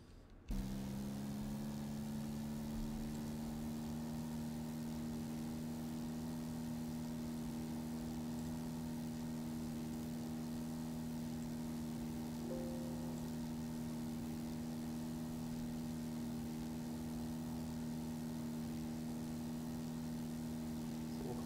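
A light aircraft engine in the X-Plane 10 flight simulator, Moncton airport, droning at a steady idle-like hum with a constant tonal whine throughout, no voices, moderately quiet and unchanging.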